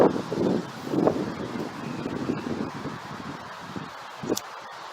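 Steady outdoor wind gusting against the microphone in Germany, a broad continuous rumble and rush that swells in waves and eases slightly toward the end, with no talking.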